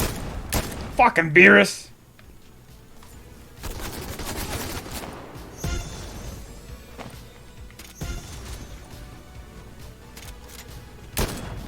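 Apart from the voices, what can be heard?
gunfire in a video game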